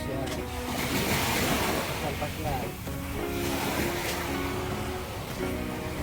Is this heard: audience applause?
no